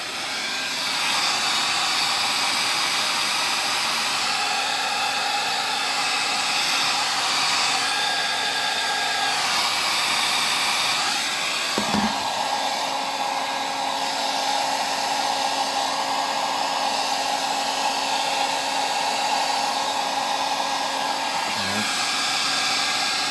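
A dryer blows air to dry primer on a painted miniature, a loud, steady whirring hum that runs the whole time with brief dips partway through and near the end.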